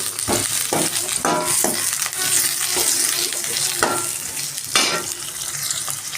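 Sliced large onions frying and being stirred in a pan for an egg and amaranth-leaf dish: a loud, steady sizzle broken by repeated scraping spatula strokes at an irregular rhythm, close up, with no voices.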